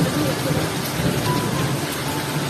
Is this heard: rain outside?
yes